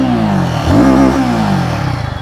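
A Royal Enfield Guerrilla 450 motorcycle engine revs up loudly and then settles back, with the pitch climbing and falling through one sweep and no voice over it.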